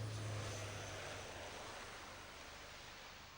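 A jet aircraft rolls out after landing under maximum reverse thrust and heavy braking, a broad steady roar that is loudest at the start and slowly fades over a few seconds, with no voices over it.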